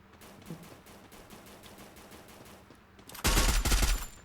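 Automatic gunfire in the PUBG battle-royale game bursts in near the end, a loud dense volley of rapid shots after a stretch of quieter in-game ambience and a few faint clicks.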